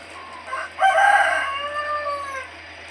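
A rooster on a poultry farm lets out one loud, close crow of about two seconds, with a brief cluck just before it and a quiet background.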